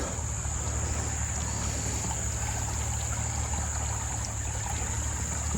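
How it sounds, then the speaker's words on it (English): Water running in a stream at an outdoor site being worked on, a steady broadband wash with a constant hiss, continuous and fairly close with no talking. "You hear that water running."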